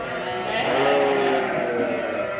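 A flock of sheep and lambs bleating together at feeding time on a farm, a dense overlapping chorus of loud wavering calls filling the whole stretch, close and continuous with a voice faintly under them.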